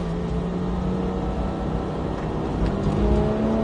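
A Porsche GT3 991 on a sprint-racing track, its engine holding a steady, loud drone with a faint rising whine throughout and no pauses.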